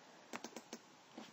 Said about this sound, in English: Let me type in the answer here.